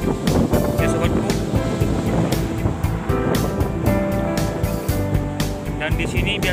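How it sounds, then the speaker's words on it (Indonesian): Large ocean waves break and wash along a beach in the evening, a loud churning roar with wind buffeting the microphone, continuous and close. "Di bibir pantai ini di sore hari ombaknya sudah cukup sangat besar"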